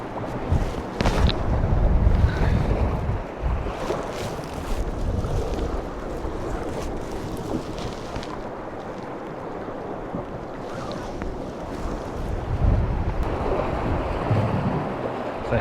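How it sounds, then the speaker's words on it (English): Strong northerly wind roars steadily across an exposed sea ledge during rock fishing, buffeting the microphone with gusts over crashing surf and open water, loud and continuous throughout. "I mentioned the wind earlier, and it is ripping round here"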